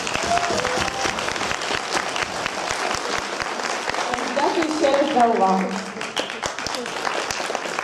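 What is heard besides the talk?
assembly audience applause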